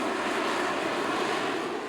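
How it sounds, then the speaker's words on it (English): A Harrier jet flying a demonstration at the 1997 Wings of Eagles Air Show at the National Warplane Museum produces a loud, steady, continuous engine roar that holds even throughout. "Today's technology was highlighted with a demonstration by the Harrier."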